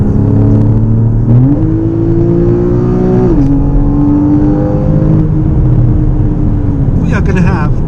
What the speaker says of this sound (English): it's so good to be in a car that makes some proper good